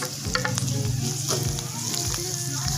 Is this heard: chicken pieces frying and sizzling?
yes